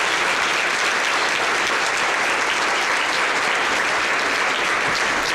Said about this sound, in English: let's give these speakers a huge round of applause